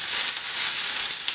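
Burger patty sizzling hard in a very hot pan, a steady dense crackle with no pauses, close and fairly loud.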